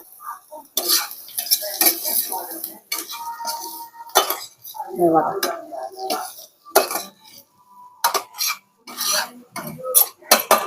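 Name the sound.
stirring bitter gourd with coconut and peanuts in a pan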